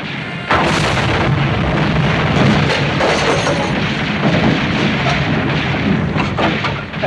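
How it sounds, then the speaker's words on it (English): A massive explosion during a wartime air raid, as a shot-down plane crashes onto the city block; a loud, dense roar erupts after half a second and rumbles on for several seconds without letting up. "That noise, that big explosion."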